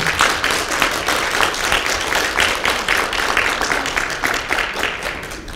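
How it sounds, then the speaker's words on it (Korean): An audience at a memorial event in Busan for organ donors claps steadily after a vocal performance by a transplant-recipient singer, a dense, even patter of many hands at moderate loudness with no talk over it. "손 교수님께 큰 박수 부탁드립니다."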